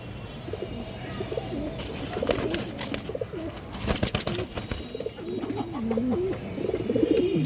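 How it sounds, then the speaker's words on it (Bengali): Khora Gola pigeons, an old breed, coo in repeated throaty bursts, close and fairly loud, with brief flutters and clatter partway through and no voices. "একদম পুরান জাতের খরা গলা কবুতর দর্শক"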